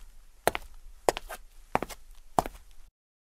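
Four heavy footsteps at an even walking pace, each a sharp thud with a short scuff after it, close and clear with no talk over them.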